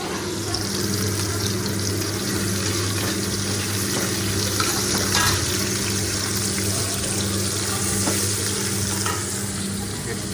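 Marinated topse fish fries in hot oil with a dense, steady sizzle and crackle, close and unbroken for about ten seconds, with a few scraping stirs.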